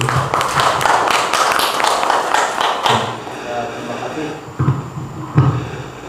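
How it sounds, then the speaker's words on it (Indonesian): Audience clapping for a presenter at an Indonesian teacher training session, a scattered round of hand claps that fades after a few seconds, leaving a quieter room with a few thuds and voices. "Kita tepuk tangan dulu untuk Ibu Nujana dulu."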